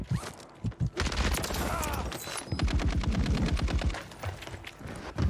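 Rapid automatic gunfire in Call of Duty: Warzone, loud bursts of rattling shots with brief pauses between them, plus footstep-like rustles.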